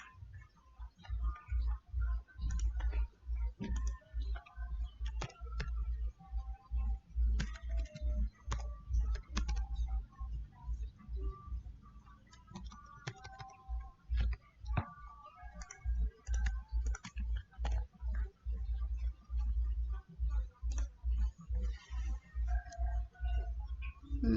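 Someone types order data on a computer keyboard, a close, steady stream of key clicks with short pauses, continuing throughout without speech.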